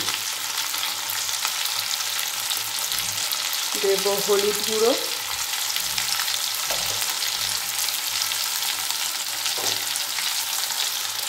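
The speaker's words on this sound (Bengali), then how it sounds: "আলু দিয়ে দিয়েছি, আলুটা ভাজা ভাজা হবে" Continuous loud sizzling of potatoes frying in a pan, with occasional stirring scrapes and a brief spoken phrase partway through.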